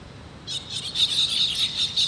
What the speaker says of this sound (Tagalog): may sabong ng ibon